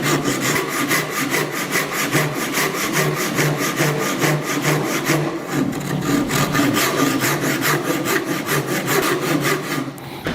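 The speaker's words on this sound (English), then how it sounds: "When working with these Japanese saws, again, it's a pull stroke" Japanese pull saw cutting a wooden miter in a jig, steady rhythmic rasping strokes repeating evenly and close, loud throughout with one brief pause midway.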